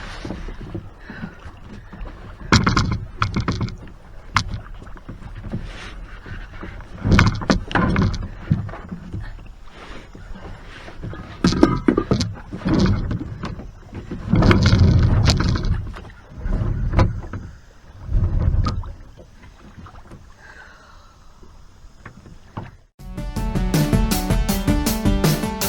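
Kayak paddled on Lake Greeson at Daisy State Park, Arkansas, with repeated paddle strokes and water splashes in an irregular rhythm, close by, amid wind buffeting the microphone.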